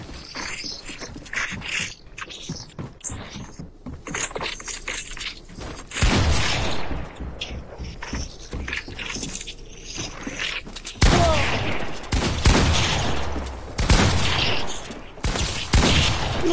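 Video game gunfire rattles in rapid, dense bursts of loud shots, pausing briefly and then resuming even louder, with mechanical clatter mixed in.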